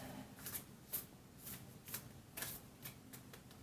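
Quiet, close riffling and shuffling of an oracle card deck, soft papery flutters repeating at an irregular rhythm.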